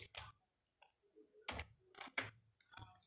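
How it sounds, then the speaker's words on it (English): A file name is typed on a computer keyboard in Adobe Acrobat Pro DC. A few quiet, close keystrokes click in irregular bursts. "then I type the file name"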